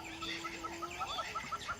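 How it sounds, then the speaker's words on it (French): Birds calling at dawn in the African savanna: a steady run of short, repeated chirps and clucking calls at moderate distance, continuing without pause over a faint, even background. "Les oiseaux se réveillent à leur tour."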